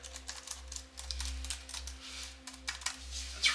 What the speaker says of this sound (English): Definitely a mechanical keyboard.